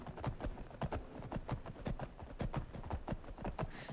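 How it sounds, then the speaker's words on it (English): Horse hooves clip-clop at a steady riding gait in the video game Skyrim, a regular rhythm of close, crisp hoof strikes alone with no talk. "Let's ride. May Kinnereth grant us safe passage. Take the horsey"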